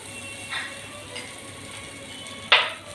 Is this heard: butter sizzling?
yes